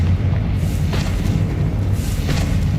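Spell explosions from the Bombarda and Confringo spells in the video game Hogwarts Legacy, deep rumbling booms rolling together with a few sharper bursts over a steady heavy low roar.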